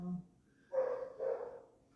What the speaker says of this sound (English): Is the dog gonna be barking the whole time?